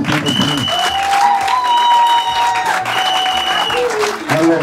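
Guests at a civil wedding in a garden venue in Yaoundé applaud under sustained musical tones and some voices, the clapping fairly loud and continuous across the moment.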